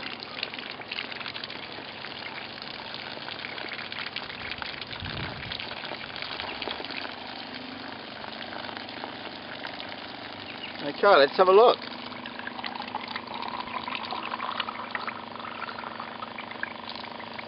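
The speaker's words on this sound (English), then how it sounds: "I can hear it filling up the reservoirs." Steady gushing water runs from a purification unit into reservoirs, a constant watery rush with a low pump-like hum throughout, briefly interrupted by a short clatter; someone speaks once over it.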